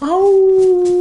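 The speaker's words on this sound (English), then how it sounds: "I don't know if y'all heard that, but there's wolves." A wolf in the survival video game DayZ lets out one loud, close, sustained howl that rises briefly and then holds a steady tone for about a second, with a man's short exclamation at its start.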